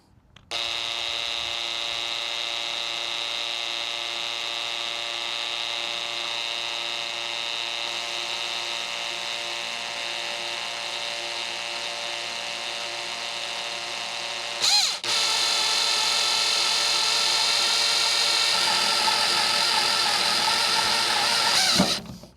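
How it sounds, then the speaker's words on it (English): A power drill bores into the metal roof of a Fiat Ducato van while a ladder is being fitted, giving a steady high whine that runs unbroken for about fifteen seconds, cuts briefly, then resumes slightly louder and rougher. "When you're drilling metal, it's always better to drill slowly."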